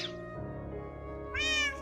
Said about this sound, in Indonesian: Wih, ada banyak kucing.